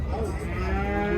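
Cattle at a livestock bazaar in Kyzylorda low continuously through the whole short stretch, with dense harmonic lowing close by over steady crowd murmur.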